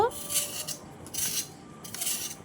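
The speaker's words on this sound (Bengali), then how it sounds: "আলুর খোসাটা ছাড়িয়ে নিচ্ছি" Potatoes being peeled for aloo kabli, heard as three short scraping strokes of a peeler against potato, close and clear, spaced roughly a second apart.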